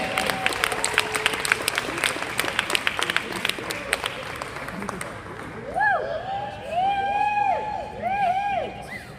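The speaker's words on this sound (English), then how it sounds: "Start clapping right now for Chris Kane." Clapping from a group fills the first half, then fades as excited voices and whoops take over, shouting over the dying applause.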